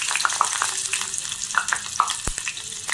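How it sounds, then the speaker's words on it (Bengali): Onion hits hot mustard oil in a pan, setting off a bright, crackling sizzle with quick spitting pops and a stir or two, close up and without talk. "এবার আমি এর মধ্যে দিয়ে দিচ্ছি পেঁয়াজ।"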